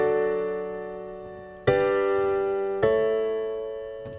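Sustained piano chords ring out alone, the first held long, then two more struck with a fresh attack each, and a fourth begins at the end, forming a slow four-chord progression.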